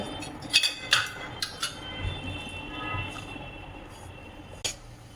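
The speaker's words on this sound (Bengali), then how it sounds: "এই যে দুধটা অল্প অল্প করে দিয়ে ঘাটা নাড়াচাড়া করব" A spoon clinks and scrapes against a metal pan while semolina is stirred with milk for a coconut semolina sweet, a few sharp taps early, then soft steady scraping, close by and fairly quiet.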